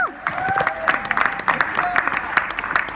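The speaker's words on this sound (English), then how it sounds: "Got huge applause for that" Audience applause at a leadership event, a lively crowd clapping close and loud, with scattered whoops and cheers.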